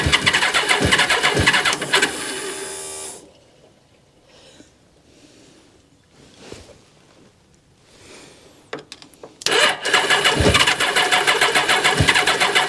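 An engine is cranked repeatedly and fails to catch: a loud steady whirring crank, then a quieter stretch with scattered faint sounds, then another loud cranking attempt near the end.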